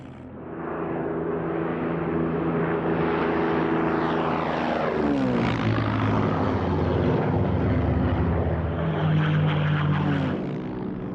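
A Spitfire fighter with a Merlin engine drones steadily overhead, its propeller roar swelling and shifting in pitch as it passes, loud and continuous for about ten seconds.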